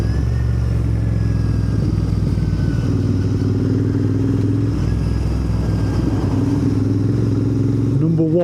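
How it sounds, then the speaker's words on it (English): A Royal Enfield Interceptor 650 motorcycle engine and exhaust idle steadily with a deep, loud, continuous thrum, and a brief rise in revs comes near the end. "Number 1 has to be that engine. I mean, just listen to that."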